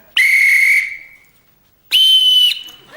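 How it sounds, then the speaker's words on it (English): Two sharp, shrill blasts on a Euro whistle ring out close and loud. The first blast trails away and the second follows after a short silence, with no speech. "Just learn to blow the whistle for the time being"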